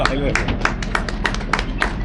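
Scattered audience clapping at a press meet in Pudukkottai district, Tamil Nadu: a handful of sharp, fairly close claps in an uneven rhythm over a steady murmur of background voices.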